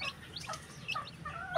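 Chickens cluck and chirp softly in short scattered calls, a few birds nearby in a quiet outdoor setting.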